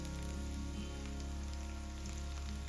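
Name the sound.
chopped garlic sizzling in hot fat with onion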